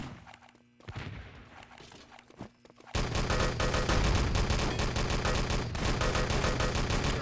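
Machine gun fire in an Enemy Territory match erupts after a quieter stretch of scattered shots, becoming a loud, dense, continuous burst of rapid gunfire that fills the rest of the moment.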